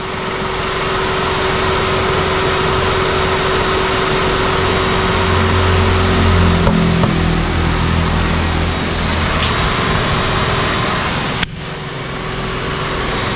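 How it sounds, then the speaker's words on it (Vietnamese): Used car engine idling smoothly, a loud, close, steady drone with a constant hum that holds unchanged throughout, ending with a faint click, and no talking. "Máy chạy êm su"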